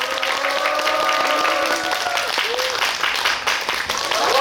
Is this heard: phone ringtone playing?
no